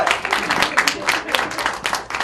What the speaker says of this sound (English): Big round of applause for Lee and Alec.